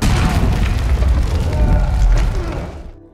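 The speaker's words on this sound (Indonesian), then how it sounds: "Joe membalas teriakan itu dengan lemparan granat dan terjadilah" A heavy, rumbling grenade explosion in a film fills the clip, sustained and loud like a big blast and its aftermath, fading out near the end.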